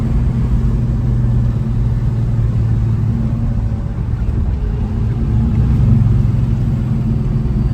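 A 1970 Chevrolet Chevelle SS 454 V8 driving along, a loud, steady low engine rumble that holds constant throughout with no talking.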